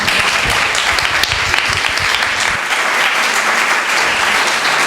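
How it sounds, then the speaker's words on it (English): Audience applause for lecturer Joseph Grima at the close of an IAAC lecture, a loud, dense, sustained round of clapping from a crowd lasting throughout. "maybe we can take the opportunity to do another round of applause for Joseph"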